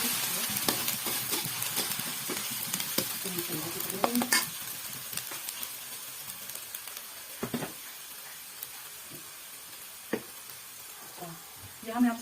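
Ginger-garlic paste sizzles and fries in a pan while saag cooks, a steady crackling hiss with stirring scrapes and occasional utensil clinks, recorded close without talk.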